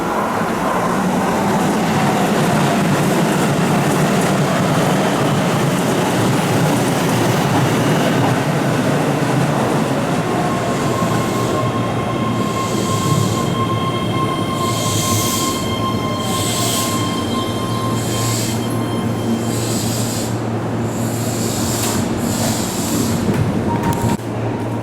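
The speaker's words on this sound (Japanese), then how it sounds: "番線に各駅停車中之島行きが7両で到着します。" A Keihan seven-car local train rolls into an elevated curved station, with a loud steady rumble of wheels and rail noise throughout, squealing wheel tones and a rising hum as it draws up close.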